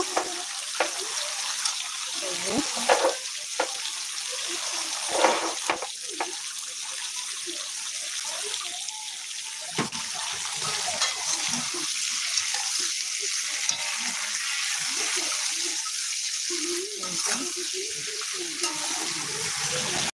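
Jackfruit seeds and pointed gourd fry with chili powder in a pan, producing a continuous close sizzle over twenty seconds, broken by repeated scraping and stirring strokes.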